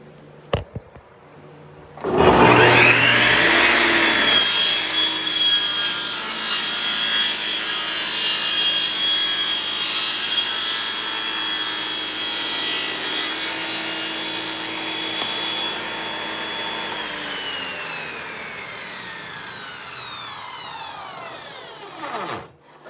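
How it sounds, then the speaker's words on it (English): A power saw trims the veneer sheets off the bottom of a hollow core door: the motor spins up sharply, then holds a loud, steady whining cut for about fifteen seconds before winding down with a falling whine. "We'll run that through to trim off some of the extra of these veneer sheets."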